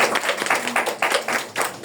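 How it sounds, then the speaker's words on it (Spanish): Audience clapping after a medical lecture on diabetic foot, a small group giving rhythmic bursts of applause over about two seconds, moderately loud with no talk. "Y ahora sí me pueden aplaudir."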